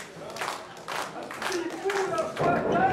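A wrestling event crowd in Deux-Montagnes claps in scattered, uneven bursts that build toward the end, heard at a distance under a commentator's voice.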